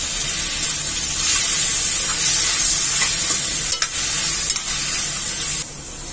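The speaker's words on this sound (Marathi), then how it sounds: "सर्व साहित्य 5 मिनिटं चांगलं परतून घ्यायचंय।" Onion, tomato and cashews sauté in a pan for a paneer butter masala, giving a steady, even sizzle throughout, with a few brief stirring scrapes and a drop in level near the end.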